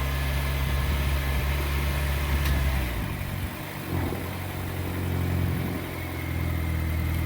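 A 2014 Nissan Sentra at a police auction idles after a jump start, giving a steady low engine hum that shifts slightly partway through and then settles back to an even idle, with no talking.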